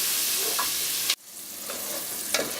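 Onions caramelising in a pan for a home-cooked pumpkin soup give a steady close sizzle, broken by a sharp dip midway, with a few scraping stirs of a utensil against the pan.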